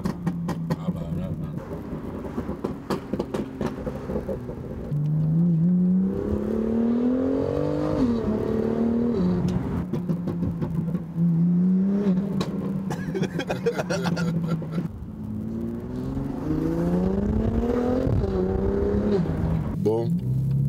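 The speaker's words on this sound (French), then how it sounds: "Ça se voit que c'est une voiture de course par contre." A BMW M2 CS sports car engine revs and pulls through rising and falling gears, a steady loud drone climbing in pitch several times over about twenty seconds, with people talking over it.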